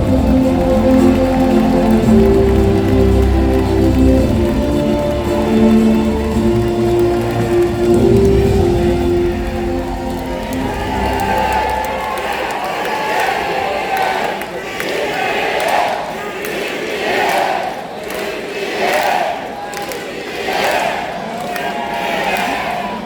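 Crowd at a Democratic Party national convention in Gwangju cheering and applauding loudly, a dense sustained roar with rhythmic chanting bursts in the latter half.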